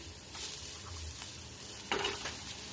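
Carrot pieces frying in oil in a pan while being stirred, a steady close sizzle with a couple of scraping stirs and a brief louder clatter near the end, no voices.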